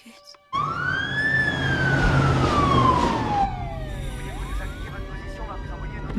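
An ambulance siren wailing in a long rising and falling sweep that starts abruptly, loud and close, then fades and shifts pitch as a second sweep follows, with voices and background noise underneath.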